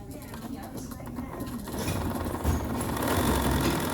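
A sewing machine stitching a buttonhole, a close, steady mechanical whirring that grows a little louder partway through, with faint speech underneath.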